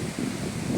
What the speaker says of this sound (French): Le vent il souffle vraiment fort.